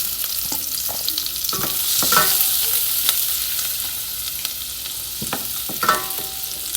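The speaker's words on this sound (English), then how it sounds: "And to my butter and oil, I'm going to add some onions." Onions sizzling in butter and oil for homemade chicken noodle soup, a steady fry hiss with scattered spoon scrapes and stirring clinks against the pot, no talking.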